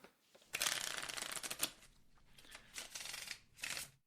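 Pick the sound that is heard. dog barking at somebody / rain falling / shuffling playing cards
shuffling playing cards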